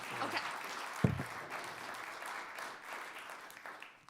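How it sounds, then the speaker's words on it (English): Audience applause at a small business development talk, a steady patter of clapping from a modest crowd lasting the whole stretch, with a sharp knock near the start and no speech over it. "A round of applause for Leah here."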